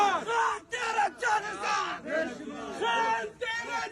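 A crowd of men freed from military court custody chanting slogans in rhythmic bursts, a leader's call answered by loud group shouts, repeating several times.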